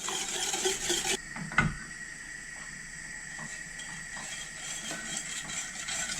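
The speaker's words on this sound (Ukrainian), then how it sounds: "постійно помішую до закипання" A spoon scrapes and clinks against a saucepan of semolina in brief, irregular strokes over a soft steady hiss, fairly close and quiet.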